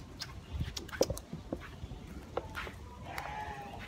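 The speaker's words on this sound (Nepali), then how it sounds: "बाख्रा नेपाली बाख्रा" Goats and sheep bleat intermittently at a zoo in Nepal, with short wavering calls standing out over a busy outdoor background, one clearer bleat near the end.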